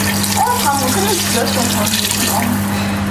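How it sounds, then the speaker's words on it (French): A litre of water pours steadily into a pan of browned meat for curry, a continuous rushing splash with a low hum beneath it. "on rajoute 1 litre d'eau."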